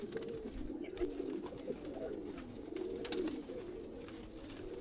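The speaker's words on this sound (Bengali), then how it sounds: "এই যে বাচ্চা দেখছেন, এগুলো সব উড়াল কবুতর" Pigeons kept as flying birds coo steadily in a loft, a soft continuous rolling murmur from several birds close by, with occasional light clicks and rustles over it.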